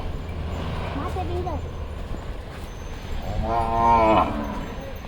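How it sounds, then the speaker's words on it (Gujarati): Two moos from cows nearby: a shorter, softer call first, then a longer, louder low bellow a couple of seconds later, over steady outdoor background noise. "વાહ ગાયો."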